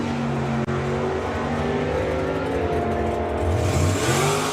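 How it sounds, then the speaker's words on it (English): Bracketeer Camaro drag race car at full throttle down the strip, a loud sustained engine roar with steady harmonic drone that climbs in pitch toward the end, close and continuous with no talk. "Charlie Seawood was killing it in the Bracketeer Camaro"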